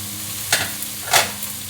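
Leftover crispy bacon and bacon bits drop into a sizzling pan for a ground beef and potato bake, making two quick close bursts of crackling over a low steady fry.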